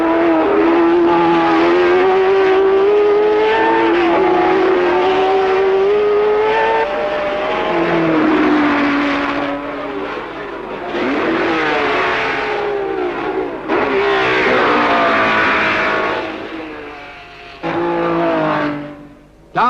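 1967 Formula One race cars, Repco Brabham, Ferrari and Honda, at the German Grand Prix, roar past with loud revving engines rising and falling in pitch, several passes in succession with gear changes and fading exits.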